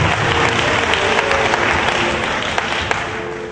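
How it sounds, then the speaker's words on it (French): Dense, sustained applause from a large congregation at an evangelical night vigil, steady and loud throughout with a crowd murmur beneath, as people acclaim Jesus. "Acclame le Seigneur Jésus, s'il te plaît."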